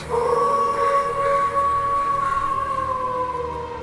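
Wolves howl in long, sustained, wavering tones that overlap one another, with a steady rising-and-falling pitch and no other voices present.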